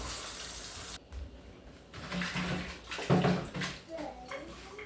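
Salted meat being rinsed in water while preparing Haitian rice with black beans: splashing and running water at close range, with brief sloshing bursts and faint background voices.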